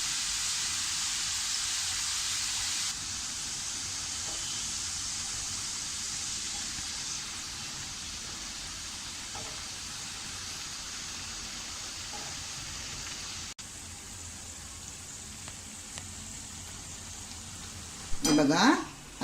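Shev, crisp gram flour noodles, deep-fry in oil over a medium flame with a continuous bright sizzling hiss that holds steady, briefly dips, then ends with a short louder clatter near the close.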